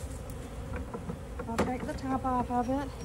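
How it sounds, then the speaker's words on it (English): Honey bees buzz in a dense, steady drone around a swarm box in a bee yard while someone talks close by. "shake the rest of these bees into the box"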